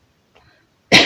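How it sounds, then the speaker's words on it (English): One sharp, loud cough bursts out close to the mic after a brief, faint sound, ending the otherwise quiet moment. "wouldn't be one of my tarot videos without a cough"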